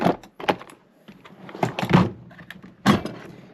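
A drawer of a Milwaukee 3-drawer Packout toolbox slides open in several short, sharp rattling and clacking bursts, close and fairly loud, separated by brief quiet gaps.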